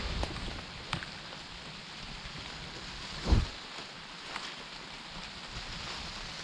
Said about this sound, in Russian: Так, дождичек у нас усилился.